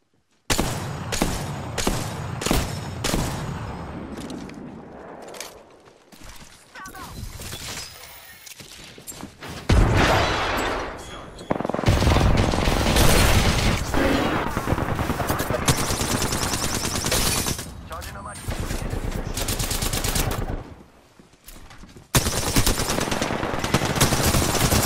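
Rapid automatic gunfire and bursts from the battle royale shooter Apex Legends, loud and sustained in long volleys with brief pauses between, no talking.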